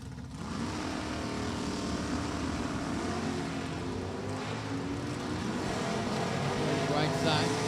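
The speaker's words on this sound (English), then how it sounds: "here comes Larry Jewell. Stock D automatic Corvette" A Stock D automatic Corvette drag racing car runs down the track at Virginia Motorsports Park, heard as a steady, distant engine roar throughout, with a commentator talking over it.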